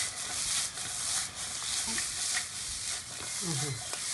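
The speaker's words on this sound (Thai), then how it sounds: "ใส่ไปผัดตอนนี้นะครับ มันจะหอมมากๆผัด" Curry powder stir-fried in a pan, giving a faint, steady sizzle with soft scraping strokes of a utensil every half second or so.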